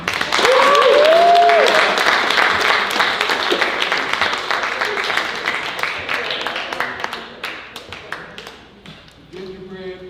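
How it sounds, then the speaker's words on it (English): Audience applause at a literary celebration event, loud sustained clapping from a crowd with voices in it, gradually thinning out to scattered claps near the end. "give Baba Kalamu another round of applause."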